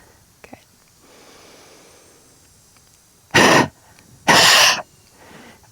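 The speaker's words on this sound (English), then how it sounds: "Exhaling, making a huffing, forcing that air out to come out of your airways." Two forceful huffing exhalations of the active cycle of breathing, pushing air out of the airways, each a loud breathy rush about half a second long, separated by quiet breathing, with a faint click and soft whispery breath around them.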